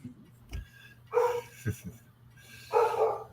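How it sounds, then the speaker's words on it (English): Dogs barking inside a house: a couple of separate bark bursts with a few thumps between them, fairly close and clear over a low background hum. "Everybody knows on YouTube you have to deal with some dogs now and then."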